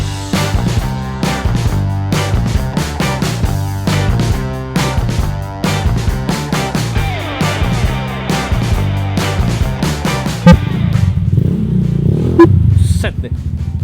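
A Honda Vario scooter fitted with an aftermarket DRB ECU revs close by in a series of rapid, rhythmic throttle blips, loud and punchy, before settling toward idle.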